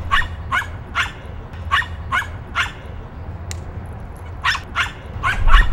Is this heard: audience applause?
no